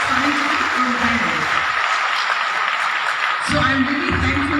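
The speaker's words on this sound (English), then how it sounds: "A big clap for him." Audience applause at an international conference, a steady, dense wash of clapping throughout, with low murmuring voices at the start and end.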